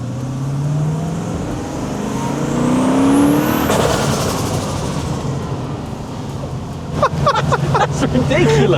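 A turbocharged Rover 3.9 V8 car engine climbs through the revs under hard acceleration, a loud rising drone that swells to a peak, drops back and builds again, with people talking inside the car toward the end.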